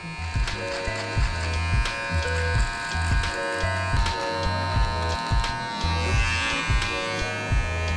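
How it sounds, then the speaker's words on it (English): An electric beard trimmer buzzes close up while cleaning up a man's chin area, a steady loud hum with rhythmic pulses as it passes over the beard. "So I'm gonna start just cleaning up that area with our trimmer."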